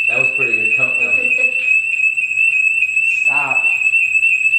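A continuous, piercing tone from a home security alarm goes on without pause, loud and near, while someone speaks over it in two separate bursts.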